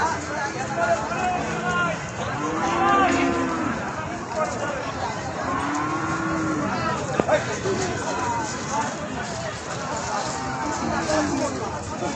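Cattle low repeatedly at a busy livestock market, drawn-out moos rising over a steady crowd babble and nearby talk.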